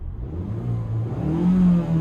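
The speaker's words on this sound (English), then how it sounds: "No rev limiter, like I said, so you can really hear that exhaust note" Turbocharged engine of a 2022 Mazda CX-5 revving with no rev limiter, its exhaust note a steady low drone that swells toward the end, heard from nearby with no talking.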